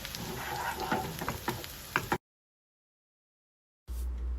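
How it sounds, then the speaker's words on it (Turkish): Onions sizzle softly in a pan with a little oil, then the sound cuts out abruptly into silence before a low hum returns. "Az bir sıvı yağ ile soteliyorum kokusu çıkana kadar."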